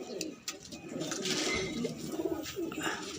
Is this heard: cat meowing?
no